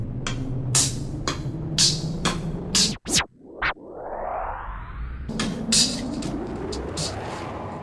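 Electronic drum machine beat with punchy transient hits, a sharp break around the midpoint and a rising noisy sweep before the pattern resumes, loud and close with no voices.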